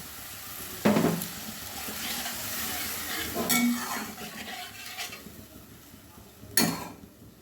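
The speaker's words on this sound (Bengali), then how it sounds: "এবারে মশলা কষানো হয়ে এসছে, তেল ছেড়ে দিয়েছে, আর এই ঝোলের জন্য জল দিয়ে দিলাম" Water goes into a fried, oil-releasing spice paste for a fish curry, bringing a few sharp hisses and bursts of sizzle between quieter simmering and light utensil clinks.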